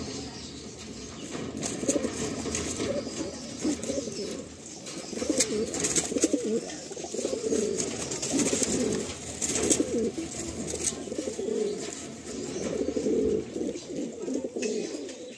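Kaldom pigeons coo steadily in a crowded loft in Garia, Kolkata, with soft overlapping calls, occasional wing flutters and faint chirps filling the space at moderate volume.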